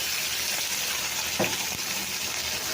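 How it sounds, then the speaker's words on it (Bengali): Chopped medium onions and green chillies fry in a pan with a steady, even hiss of sizzling oil close by, broken by a single brief stirring scrape midway. "সমস্ত কিছু ভালো করে ভাজা করে নেব।"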